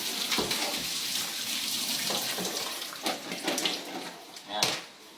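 Homegrown bell peppers rinsed under a running tap, a steady hiss of flowing water broken by splashes and clatter as the peppers are handled, with voices chatting over it.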